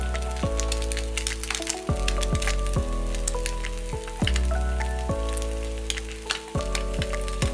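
Eggs frying in a pan for a full-fry breakfast, a steady close crackling sizzle with sharp pops and repeated scraping or stirring strokes, no talk.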